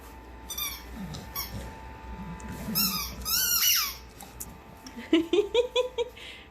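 A squeaky dog toy being squeezed, giving a few scattered squeaks and then a rapid run of sharp, fairly close squeaks toward the end over quiet background noise.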